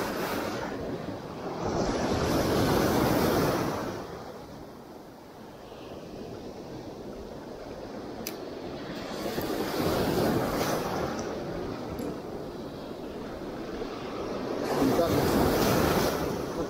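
Sea waves surge and break on a dirty shoreline at Ashkelon in repeated swells, with steady wind rumble against the microphone between the louder crashes.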